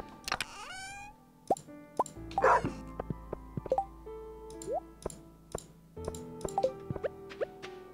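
Game sounds from Stardew Valley, a dog on the farm, with short plops, chimes and a bark-like cue scattered over quiet, clicking interface tones.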